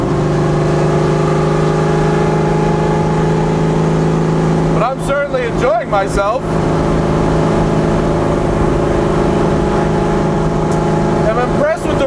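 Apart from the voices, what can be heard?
1989 Mustang race car engine while driving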